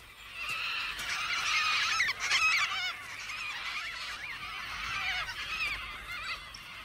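A flock of Major Mitchell cockatoos, Australian native parrots, keeps up harsh, overlapping screeching calls that carry loud and close the whole way through, with no pauses.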